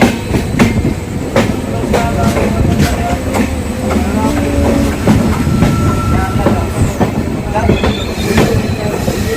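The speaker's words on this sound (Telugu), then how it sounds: "ట్రైన్ ప్లాట్ఫారం 3 నుండి బయలుదేరింది ఫ్రెండ్స్" Close, steady rumble of an express train running just after pulling out of platform 3 at Katpadi, with rhythmic clickety-clack of wheels over rail joints and occasional metallic squeals throughout.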